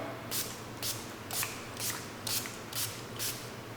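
Repeated short spritzes of a cheap makeup setting spray, seven evenly spaced bursts close to the mic over a low steady hum, with no talking.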